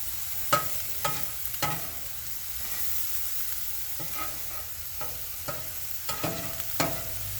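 Food sizzles steadily on a Blackstone griddle while a spatula scrapes and flips it in a series of sharp clicks and taps over the constant frying hiss.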